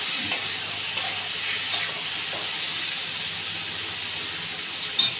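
Ridge gourd with salt, releasing water as it fries slowly in a pan, gives a steady soft sizzle and hiss with a few faint clicks of stirring, alone and close.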